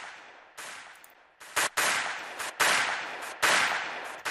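A gunshot sound effect fires in loud, sharp bursts, each decaying quickly, repeating in a rhythmic pattern in a NY drill beat.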